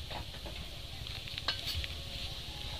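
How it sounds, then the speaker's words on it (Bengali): A spoon stirs cake batter ingredients together in a bowl, soft continuous scraping and swishing with a few light clinks, close and steady without talk. "সমস্ত উপকরণগুলো একসাথে ভালো করে মিশিয়ে নেব।"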